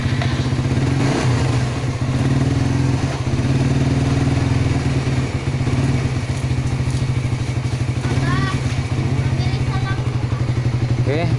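Motorcycle engine idling steadily and loudly, then revving briefly after being started with a freshly fitted battery, with a voice speaking over the running engine.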